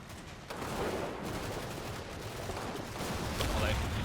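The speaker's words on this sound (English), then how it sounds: "we are starting to get a little bit of rifles, a bit of machine gun fire" Scattered rifle shots and bursts of machine gun fire from a war video game crackle through a dense, continuous battle din, with no single shot standing out clearly.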